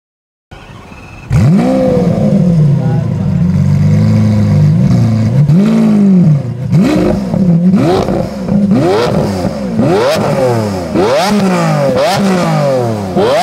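A powerful engine revs loudly again and again, each sharp climb in pitch falling away before the next, close and continuous with no talk.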